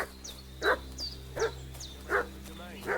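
A dog in Kingdom Come: Deliverance 2 barks in five evenly spaced, sharp bursts about every three-quarters of a second, set over a steady low game ambience with faint chirping in the background.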